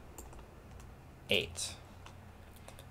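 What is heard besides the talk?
typing an answer on a computer keyboard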